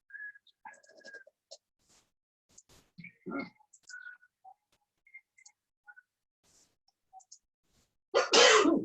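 A single loud, close sneeze bursts out near the end of a quiet stretch at a town assessors' board meeting, preceded by faint clicks and small room noises.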